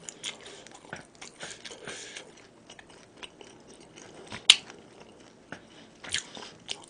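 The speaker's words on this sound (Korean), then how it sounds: "그리고 오래 씹어 먹고" Close, quiet chewing of grilled spicy beef tripe (makchang) during a Korean mukbang, with soft squishy bites and occasional sharper crunches in an irregular, unhurried rhythm.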